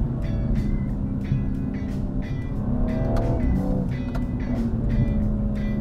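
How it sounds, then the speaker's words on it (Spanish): BMW M135i engine running hard, with quick revving blips on a double-clutch downshift over a steady rumble, close and fairly loud. "Y encima al reducir, escuchad, hace un maravilloso doble embrague."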